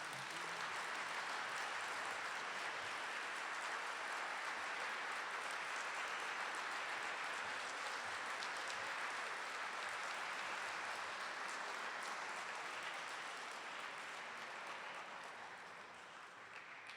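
Sustained applause from an audience at an alumni weekend awards luncheon, a dense, steady wash of clapping that continues for many seconds before tapering slightly at the end.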